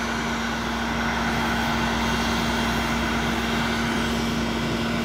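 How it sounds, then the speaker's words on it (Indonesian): A Citilink passenger airliner that has just landed on runway 18 and is taxiing toward the apron, heard as a constant, loud, broadband engine roar with a steady hum and no break or voices. "ada pesawat CityLink yang baru saja landing"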